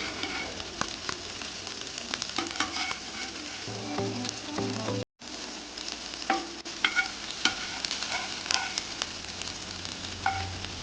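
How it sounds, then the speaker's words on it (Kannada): Okra slices fry in a pan over medium heat until crisp on both sides, with a steady close sizzle and occasional scraping stirs and clinks, one brief dropout midway and no talking. "ಚೆನ್ನಾಗಿ ಹದ ಬೆಂಕಿಯಲ್ಲಿ ಇದನ್ನು 2 ಬದಿಯಲ್ಲಿ ಫ್ರೈ ಮಾಡಿ ತೆಗೆದ್ರೆ ಓಕ್ರಾ ಕ್ರಿಸ್ಪಿಯಾಗಿ ರೆಡಿಯಾಗಿ ಬರ್ತದೆ"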